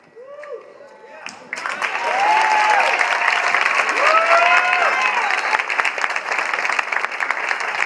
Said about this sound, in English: give them a bigger round of applause